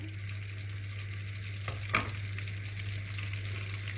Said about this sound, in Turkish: böyle pekmezimizi içerisine karıştırıyoruz.